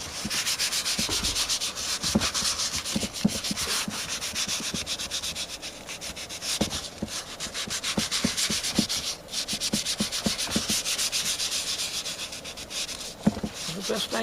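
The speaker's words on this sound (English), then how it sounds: "I am sanding with very fine sandpaper now." Fine 320-grit sandpaper rubbed back and forth over Bondo body filler, a steady close scratchy rasp with rhythmic strokes running throughout.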